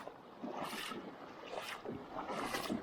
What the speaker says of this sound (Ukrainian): І чути вода, як шумить сильно